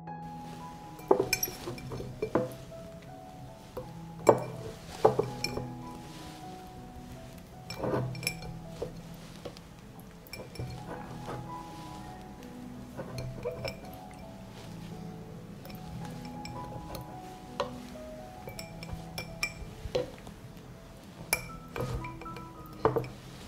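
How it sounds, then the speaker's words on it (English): Glass jars clink and knock against each other over and over while being washed for tomato canning, bright sharp taps in irregular bursts close by, with faint water handling between them and no talking. "Now I need clean and wash jars."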